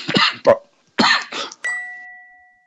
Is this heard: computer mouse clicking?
no